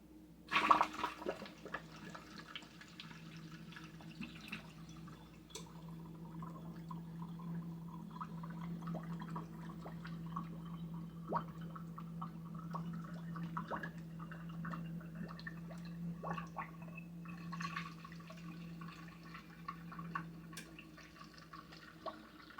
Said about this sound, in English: I'm going to use a funnel to get this liquid into my bottle.